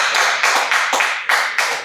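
A few people clap during a podcast, with distinct bursts of claps in an uneven rhythm, close and fairly loud, over about two seconds with no talk.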